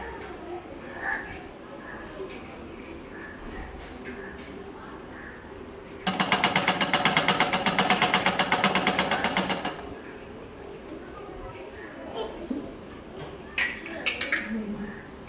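Sewing machine stitching a dress runs in a steady rapid whirring burst of about four seconds, framed by quieter room noise and scattered handling sounds before and after.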